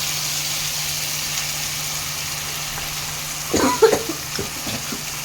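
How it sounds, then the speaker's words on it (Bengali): Mustard and green chilli paste sautéing in a pan for an Ilish fish head and taro dish: a steady low hiss, then a brief louder spatter and scrape near the end as the paste is stirred in. "এখানে আমি নিয়ে নিয়েছি সর্ষে আর 3টে কাঁচা লঙ্কা বাটা। এটা আমি এর মধ্যে দিয়ে ভালো করে কষিয়ে দেবো।"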